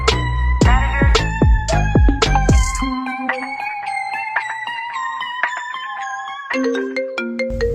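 A phone ringtone for an incoming call plays loud and close, a bright chiming melody of repeated bell-like tones that carries on for several seconds without talk.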